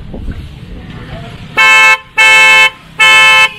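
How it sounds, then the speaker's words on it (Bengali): A Roots car horn, fitted alongside Hella horns, gives three loud, sustained blasts in quick succession, each lasting about half a second, after a stretch of low background noise. "এটা হচ্ছে রুটসের হর্ন।"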